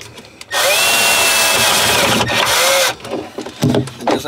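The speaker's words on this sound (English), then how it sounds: "while I get the angle and drill this guy inside here." A power drill whirs steadily and loudly for about two and a half seconds while drilling into a subwoofer box, then cuts out, followed by a few light knocks and handling sounds.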